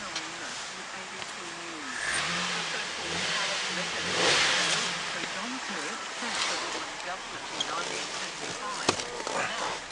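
A Holden WM Statesman with a 3.6 litre V6 LY7 engine idles and revs at a wrecking yard, the engine note rising and falling through several throttle blips while someone talks over it.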